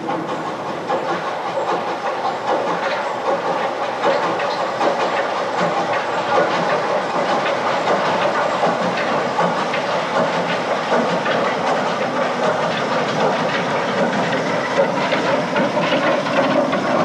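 An 1899 Neilson Reed 0-4-0 saddle tank steam locomotive setting back along the line, a steady loud hiss of steam with faint rhythmic clatter of wheels, continuous and unbroken with no talk.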